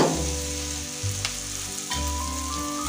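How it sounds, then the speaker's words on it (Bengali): Mashed potato hits hot spiced oil in a pan with a loud, steady sizzle, broken by brief stirring scrapes and small bumps as it is pushed around; no voices. "এখানে আছে থেতো করে রাখা আলু এবার আলুটা দিয়ে দিচ্ছি"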